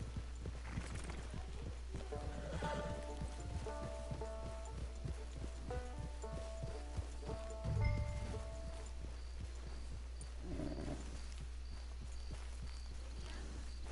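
Horse hooves clip-clop in the video game Red Dead Online, a steady run of soft, evenly spaced hoofbeats with faint tack creaks and a brief snort, heard at a moderate distance over a quiet game ambience.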